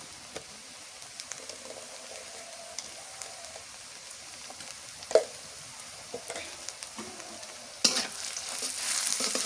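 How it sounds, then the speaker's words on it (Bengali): Onions sizzle and fry with salt in a pan, a steady crackling hiss with occasional louder pops and stirring scrapes, the frying swelling louder toward the end. "নুন দিয়ে পেঁয়াজটা একটু নরম করে নেব"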